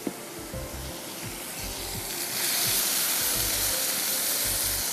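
Ginger garlic paste and masala sizzle and fry in a little oil, a close, steady crackling hiss that swells louder and denser partway through, with light stirring clatter underneath.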